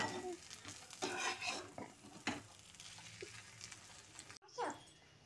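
An egg frying in a pan at home, with a soft steady sizzle and close stirring and scraping clatter throughout, then a brief dropout near the end followed by a short scrape.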